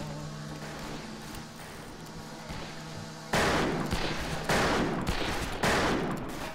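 Gunfire in the western shooter game Fistful of Frags: several loud, close, broadband shots with a constant background hum beneath, no talking.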